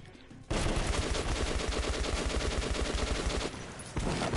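Rapid automatic gunfire from the video game Metro Last Light Redux rattles loudly and continuously for about three seconds, with a brief drop near the end before firing resumes.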